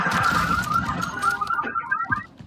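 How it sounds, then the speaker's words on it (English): Car alarms wailing after cars are shot in a Call of Duty zombies match, a warbling siren tone rising and falling over the continuous game noise, fading toward the end. "Shoots the cars nearby to set off several alarms."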